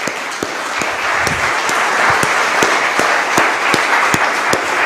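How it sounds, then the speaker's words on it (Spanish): A church congregation applauds during a sermon, sustained clapping at moderate distance with a steady rhythmic beat of sharper claps keeping time through it. "Dele un aplauso al Señor, venga, gigante."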